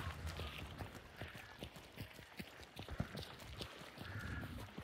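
Horse hooves clip-clopping in the Hunt: Showdown video game, a steady run of footfalls mixed with ambient game sounds and occasional rustling.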